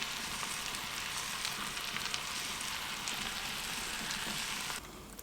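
Steak sizzles steadily in a pan at a camp cookout, a dense, even frying hiss with light crackles that drops away sharply near the end.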